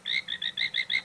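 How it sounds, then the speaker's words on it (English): Frog croaking at a pan at sunset in the African wild, a rapid series of about seven evenly spaced, high, trilling calls repeating steadily and fairly close, with no voices over it. "Listen to the frog."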